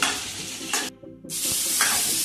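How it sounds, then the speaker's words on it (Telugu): Radish, green chillies and onion frying in an oiled pan, a steady loud sizzle with stirring scrapes and one brief gap as the spoon lifts, close up. "పచ్చిమిరపకాయలు, ముల్లంగి, పచ్చిమిరపకాయ, ఉల్లిగడ్డని బాగా ఫ్రై చేసుకున్న తర్వాత మునక్కాయ, టమాటా వేసుకోవాలండి"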